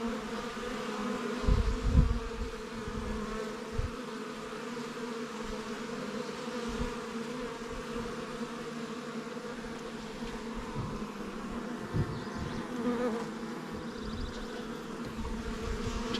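A dense, steady hum of a honeybee colony preparing to swarm, found in the woods, buzzing close by and droning continuously with a few louder bumps and thuds at the start.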